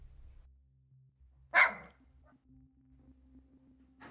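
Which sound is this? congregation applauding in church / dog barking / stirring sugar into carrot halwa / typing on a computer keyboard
dog barking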